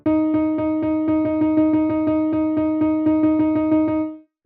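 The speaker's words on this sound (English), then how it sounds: "You can also keep going with 6 notes within a beat." Six evenly spaced notes packed into each beat form a sextuplet rhythm, a quick, regular stream of identical sustained pitched tones heard alone and clearly for just over four seconds.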